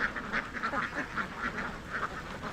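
Ducks at a duck farm in Karuvatta quack in a steady repeated chorus, many birds close by calling one after another in a busy, rhythmic stream.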